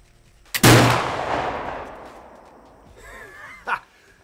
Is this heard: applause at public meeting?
no